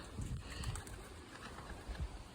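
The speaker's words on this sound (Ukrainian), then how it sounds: "приїхав давати голубам їсти" Pigeons gather to be fed, with soft low cooing and faint wing and foot patter close by, steady throughout with a brief louder bump at the end.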